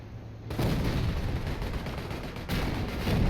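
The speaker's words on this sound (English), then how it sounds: "Some artillery coming in over here as well" Heavy booms roll in Company of Heroes as a Soviet armored battle plays out in an urban area, with a loud sustained rumble of gunfire and explosions and a fresh blast at the midpoint.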